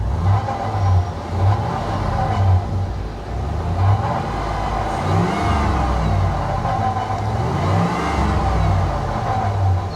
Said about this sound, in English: There's definitely some whine in the power steering for sure, so it could also be that the power steering pump is going bad.